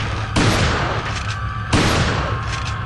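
Two loud, booming shotgun blasts in Resident Evil 4, fired about a second and a half apart, each with a long ringing decay over a constant rumbling game background.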